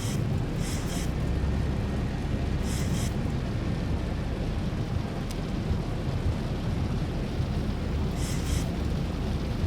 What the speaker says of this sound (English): Okay, so the rain is pretty bad.